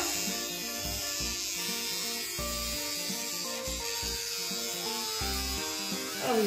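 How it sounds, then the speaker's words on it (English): A small child brushing his teeth, likely with an electric toothbrush, gives an intermittent close buzzing hum that starts and stops several times, quiet and with no talking. "he's dancing and he's brushing his teeth"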